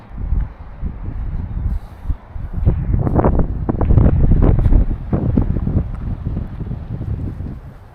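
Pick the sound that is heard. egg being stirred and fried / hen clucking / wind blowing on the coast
wind blowing on the coast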